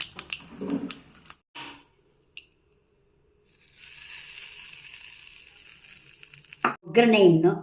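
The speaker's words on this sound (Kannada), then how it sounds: "ಎಣ್ಣೆ ಹಾಕಿ ಸಾಸಿವೆ ಸಿಡಿದಾಯಿತು." Mustard seeds crackle and splutter in hot oil, a steady sizzle for several seconds ending in a burst of louder popping, with brief talk at the start.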